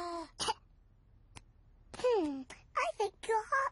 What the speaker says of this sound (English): take a big breath in, then cough